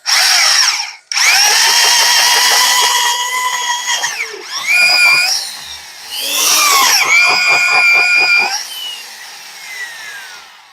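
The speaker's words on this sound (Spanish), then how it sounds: "Aseguramos la prensa y empezamos a perforar." A homemade conical drill bit cuts into a workpiece clamped in a press, loud whining and grinding in long bursts that ramp up and wind down with brief pauses.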